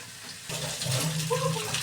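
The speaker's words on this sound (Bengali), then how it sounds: "এখন জল দিয়ে দিব পরিমাণ মতন" Water pours into a cooking pan holding fried cauliflower and potatoes. A quiet start gives way to a steady splashing pour that runs to the end, close by and moderately loud.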